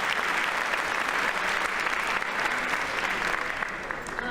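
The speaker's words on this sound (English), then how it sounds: "Let's give her a round of applause." Staff audience at a school district convocation gives a round of applause, a steady, moderately distant wash of clapping that holds evenly and fades slightly at the end.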